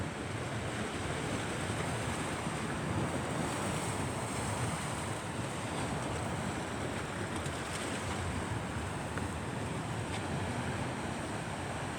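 Mediterranean waves wash steadily onto a rocky shore at Menton, a dense continuous roar of surf mixed with wind buffeting the microphone, with no voices.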